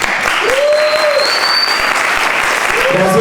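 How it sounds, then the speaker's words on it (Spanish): Audience applause at a storytelling contest show, continuous dense clapping with a voice heard faintly over it. "un fuerte aplauso para Inés"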